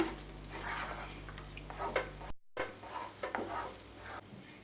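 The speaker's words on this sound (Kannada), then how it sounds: "ನಿಧಾನವಾಗಿ ಕೈ ಆಡಿಸ್ಕೊಂಡು ಚೆನ್ನಾಗಿ ಕಲಸೋಣ" Roasted semolina being stirred slowly into hot milk for badam rava burfi, a soft, steady scraping and gentle bubbling at close range, broken by a brief silent gap midway, with no voices.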